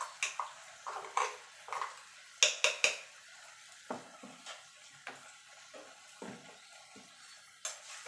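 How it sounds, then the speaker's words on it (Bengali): Chili and ginger paste masala with raw tomato being stirred in a frying pan: irregular clinks and scrapes of a spatula against the pan over a faint sizzle, close and clear. "এবার মশলাটাকে একটুখানি নাড়াচাড়া করে নেবো"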